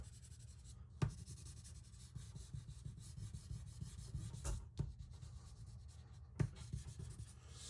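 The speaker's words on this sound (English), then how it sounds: "I'm kind of scribbling at this point just to finish it up." Colouring pencil or crayon scribbled quickly across paper for a candy corn cats drawing, a steady close scratchy rubbing with a few sharper taps, alone without voices.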